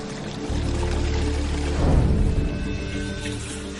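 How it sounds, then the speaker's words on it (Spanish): Water spouts and splashes steadily into the stone basin of the Inca emperor Pachacuti's private fountain at Machu Picchu, a continuous close rushing pour that swells briefly midway. "Era una especie de chorro que salpicaba en la cuenca abajo."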